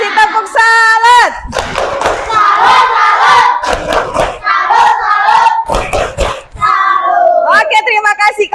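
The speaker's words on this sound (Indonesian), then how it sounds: "Kasih tepuk salut." Schoolchildren in a classroom perform a rhythmic salute clap, loud chanted voices alternating with sharp bursts of unison clapping in a patterned sequence, close by and energetic.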